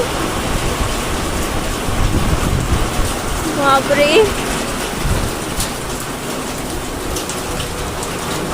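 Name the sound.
heavy rain with thunder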